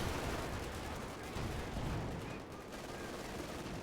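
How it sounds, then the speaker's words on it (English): A dense, continuous roar of bazooka fire and explosions in a World War II tank battle video game, a muffled, distant-sounding volley with no clear breaks. "Oh, what a volley from the bazookas."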